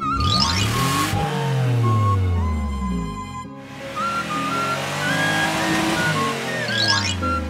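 An animated police car's engine revs and vrooms up and down with a brief tire-squeal quality, loud and near, set against a steady cartoon music bed.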